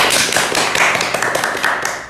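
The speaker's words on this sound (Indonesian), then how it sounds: "Oke, tepuk tangan dulu." Loud, dense applause from an audience at a public-park talk event, a steady wash of many hands clapping that continues without a break.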